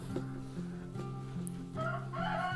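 Backyard urban chickens cluck softly and repeatedly at a low level, with a few higher fowl calls rising late, over a quiet steady background hum.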